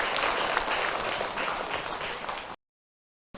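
An audience at an Islamic talk applauds a woman who asked a question, a dense burst of many hands clapping at moderate distance that fades slightly and stops abruptly, leaving silence.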